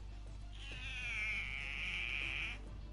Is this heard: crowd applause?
no